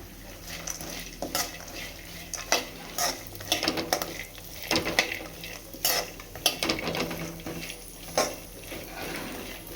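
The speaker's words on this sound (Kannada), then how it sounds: "ಪಂಪ್ಕಿನ್ ಸೀಡ್ಸ್ ಹಾಕ್ತಾಯಿದ್ದೀನಿ." Pumpkin seeds are tipped into a pan and stirred for a dry fruit laddu, with repeated scraping and clinking of a spoon against the pan over a soft, continuous sizzle.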